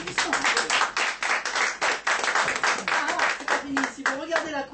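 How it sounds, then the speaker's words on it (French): Audience clapping during a French musical-chairs-style colour-guessing game, a dense, steady patter of many hands that carries on throughout, with a presenter's voice talking over it toward the end. "Un petit peu d'applaudissement."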